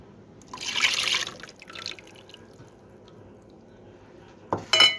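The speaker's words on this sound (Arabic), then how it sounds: "هنفض عليه السمنة السكر والمية" Ghee, sugar and water poured over coconut in a semolina dessert pan: a soft liquid trickle and splash for a moment, then a quieter pause, ending in a brief louder spill and clatter.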